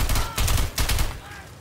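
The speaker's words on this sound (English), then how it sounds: "Shooting each other on the same team." Rapid bursts of gunfire among teammates in the video game Insurgency, loud and close, coming in three dense volleys over under two seconds with brief gaps between them.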